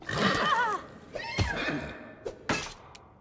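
A horse in the fantasy role-playing game Pathfinder: Wrath of the Righteous gives a loud whinny, followed by shorter snorts and a few clipped hoof-like knocks, close and clear with no talk.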